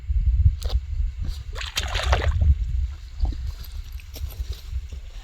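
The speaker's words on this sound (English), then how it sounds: "It's a nice little brook." A small mountain brook in a high lake basin flows with low gurgling and sloshing, broken by a few brief splashy surges over a steady murmur.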